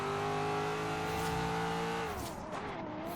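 A Z06 Corvette in Forza Horizon 3 revs hard and steadily, its engine tone climbing toward the redline before dropping as it shifts near the end, loud and close with no talk over it.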